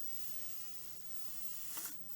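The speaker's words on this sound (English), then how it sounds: "so slowly let the air out." Air slowly escaping from the neck of a balloon being deflated while making a stress ball, a soft steady hiss that swells briefly near the end, close and alone.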